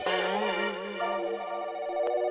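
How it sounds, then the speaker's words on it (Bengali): A phone ringtone plays a bright melodic tone at moderate level, sounding alone with no talk over it and ending with a short click. "এখন আবার কার ফোন এলো"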